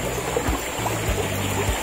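A water stream flowing on a farm property with coconut trees, a steady close rush and trickle, with a low droning tone running underneath.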